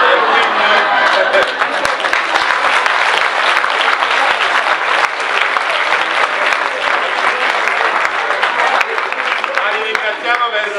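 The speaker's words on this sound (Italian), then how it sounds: "un grande applauso lo facciamo ai nostri attori che sono qui dietro" A theatre audience applauds the actors after a performance of 0' Miedico de' Pazze, with sustained, loud clapping from a full house mixed with some crowd voices.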